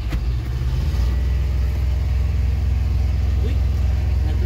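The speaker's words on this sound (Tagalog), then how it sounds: "Pamamatay pa pinandar mo yung truck." A Volvo truck engine running, a deep steady rumble at close range with a low continuous throb, with faint voices in the background.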